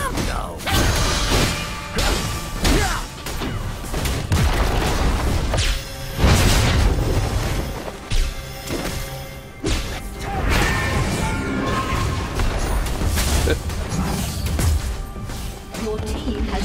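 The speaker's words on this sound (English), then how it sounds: "Your team has destroyed the turret." A turret is destroyed in League of Legends amid a dense wash of game effects: crashes, booms and whooshing swishes layered over continuous background music, with a game announcer voice heard.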